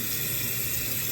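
Tap water runs steadily into a bathroom sink during face washing, a continuous close hiss with no pauses.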